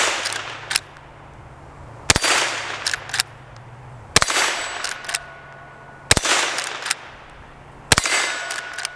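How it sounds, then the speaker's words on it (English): Five sharp rifle shots from a Henry .22 Magnum ring out at roughly two-second intervals, each followed by a ringing metallic clang as steel plate rack targets are hit. "Let's run the plate rack real quick. Shoot our hostage popper."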